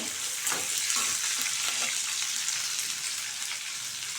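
Small onions (shallots) frying in a hot pan give a continuous bright sizzle, with a few soft stirring scrapes near the start and no voices.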